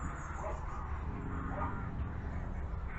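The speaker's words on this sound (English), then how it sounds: "The dogs up the road are barking, so Cooper's got to join in." Several dogs barking from up the road, a steady distant chorus of yapping under outdoor garden ambience, continuous through the stretch.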